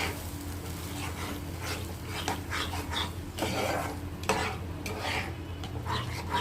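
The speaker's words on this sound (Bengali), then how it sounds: "ভালো করে আমি এখন মিশিয়ে নিচ্ছি।" Beaten sour yogurt stirred into a katla fish curry in a pan over a low flame, repeated scraping and clinking strokes of a spoon against the pan over a faint steady sizzle, close and continuous.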